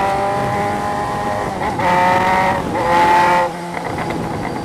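Motorcycle ridden along a pothole-marked street, a steady engine drone holding close by with two swells of revving and acceleration before easing back, no voices over it.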